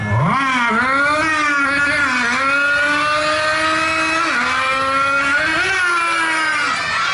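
A Yamaha RX King motorcycle engine revs loud and close, a two-stroke pitch rising and falling through several throttle blips without any talk.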